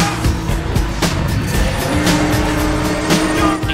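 A car in Need for Speed: The Run holding a sustained turn, tires squealing and skidding over a loud racing engine roar, with sharp screeches recurring through the corner.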